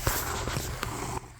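A cat purring close and quietly in a brief, steady rumbling stretch, with a few soft knocks and shuffles around it.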